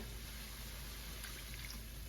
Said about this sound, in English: I'm actually gonna replenish the water right now.